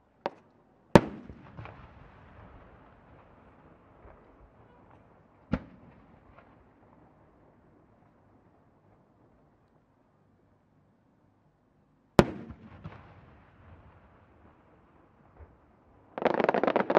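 Large aerial fireworks shells burst at the Omagari fireworks festival in Akita, Japan: sharp isolated booms spaced several seconds apart, each trailing off in a long rolling echo, then a dense crackling burst at the end.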